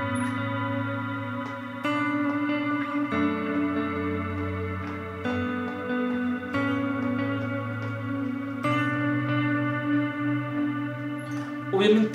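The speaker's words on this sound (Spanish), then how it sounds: "Cuando colocamos una reverb un poco más abierta, o sea, mucho más ambiente" Guitar for worship intros played through open ambient reverb and dotted delay, sustained chords changing every couple of seconds with long washy tails blending into one another, played alone.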